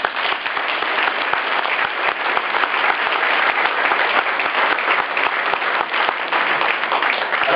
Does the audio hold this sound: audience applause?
yes